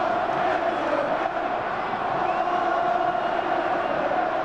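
Arsenal's home crowd cheers and roars steadily at their stadium during a 1995/96 match against Bolton Wanderers, a dense, sustained wall of voices with whoops and shouts rising out of it throughout.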